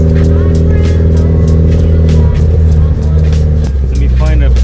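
Mitsubishi Lancer Evolution IX engine drones steadily from inside the car while driving, a loud continuous low hum with voices talking over it throughout.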